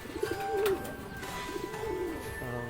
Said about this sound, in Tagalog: nakauwi na yung ibon natin